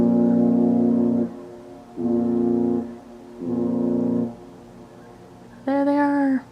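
The lake freighter Roger Blough, downbound near Mission Point in Sault Ste. Marie, sounds a salute of three long, deep horn blasts followed by a shorter, brighter fourth blast, carrying loudly across the water.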